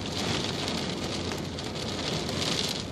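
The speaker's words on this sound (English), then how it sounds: "You can spot when the rain's coming across the road and across the ground." Dense, steady hiss of a rain band sweeping across a road and open ground during a quartzite-area storm, a continuous close wash of drops with no voices.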